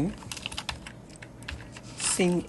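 Rapid, close keystrokes on a computer keyboard while coding a Flutter Firebase login screen, a steady pattering of clicks with a brief voice speaking near the end.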